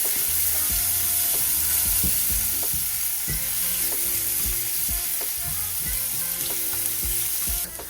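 Chopped shallot frying in a pan for a one-pan creamy Tuscan chicken, a continuous loud sizzle with repeated clicks and knocks of a utensil stirring against the pan, no voices.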